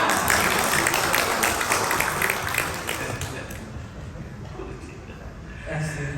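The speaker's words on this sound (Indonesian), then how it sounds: "Iya beri tepuk tangan." A church congregation at an Indonesian- and Dutch-language service breaks into applause, a loud wash of many clapping hands that gradually fades over several seconds, with voices mixed in beneath it.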